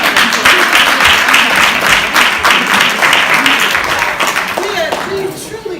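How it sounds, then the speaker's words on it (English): A theater audience at a stage play claps and cheers in dense, sustained applause that stays loud throughout, with some voices mixed in. "Let's give her a round of applause."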